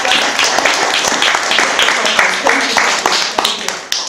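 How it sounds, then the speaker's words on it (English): Audience applause at a winter music recital, steady dense clapping from a crowd that sustains throughout with a few sharper individual claps near the end. "Let's give a round of applause."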